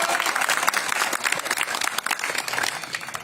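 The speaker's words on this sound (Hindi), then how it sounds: "रामगढ़ के लिए ताली बजा दो, फतेहपुर के लिए ताली बजा दो" Crowd at an outdoor political rally for a JJP candidate in Ramgarh Shekhawati clapping, a loud, busy patter of many hands with sharp individual claps, steady throughout.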